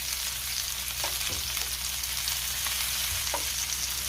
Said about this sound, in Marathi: एका साईडनी कोळंबी व्यवस्थित फ्राय होऊन देणार आहे।